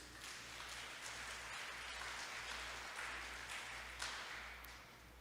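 A church congregation applauds during a sermon, a steady faint wash of many hands clapping together that holds evenly for several seconds, heard from a distance.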